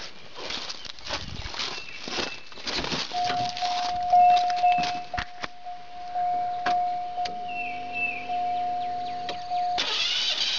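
An engine cranks steadily for several seconds during a compression test with the coil and fuel connector disconnected, so it turns over without firing. A thin, steady whine runs beneath the whirring.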